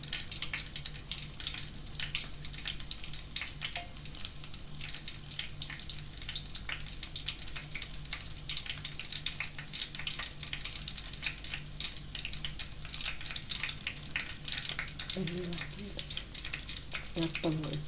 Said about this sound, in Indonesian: Nah ini ya sate pentul ikannya yang siap kita goreng ya.